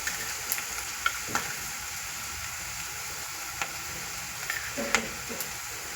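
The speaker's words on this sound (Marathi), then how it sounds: "हे आपला कांदा थोडासा ब्राऊन होत आलेला आहे।" Onion fries and browns in a pan for kande pohe, a constant close sizzle with occasional light taps and scrapes from stirring.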